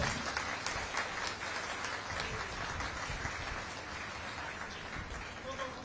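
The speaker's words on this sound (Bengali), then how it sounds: "খুব জোরে হাততালি চাই" An audience claps in a dense, continuous wash of applause that holds steady throughout at moderate distance.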